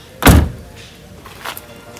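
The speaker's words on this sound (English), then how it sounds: "You can fold those seats down." Rear seat backs of a 2011 VW Passat B7 folding down, one loud close thunk followed by a fainter second knock, with no talk over it.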